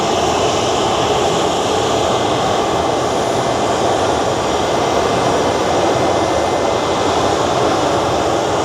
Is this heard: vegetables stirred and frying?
no